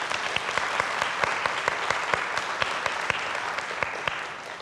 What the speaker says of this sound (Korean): 먼저 오늘 이 무대를 준비한 많은 분들께 박수 한번 보내드릴까요?